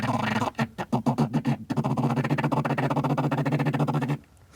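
Duck chatter imitated by a voice cupped through his hands, without a duck call: a quick run of choppy, rhythmic pulses breaking into a rapid steady stutter for about four seconds, close and fairly loud.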